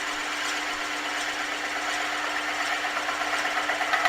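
Wood turning on a lathe with a spiralling and texturing tool held steady to cut a reference groove, giving a steady, close hiss and whirr of cutting with a faint motor hum underneath, no talk.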